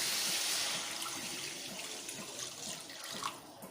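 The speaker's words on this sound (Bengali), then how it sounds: "দিয়ে দেবো পরিমাণ মতন জল" Water is poured into a Bengali-style bhetki fish curry with potatoes, a close, steady splashing rush that fades toward the end.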